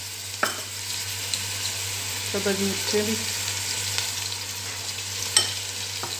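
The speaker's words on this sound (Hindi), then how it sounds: "इसको हम भून लेते हैं" Ginger garlic paste and green chilies fry in a pan for kadhi pakora, with a soft continuous sizzle, occasional scrapes and clinks from stirring, and a brief spoken voice over the cooking.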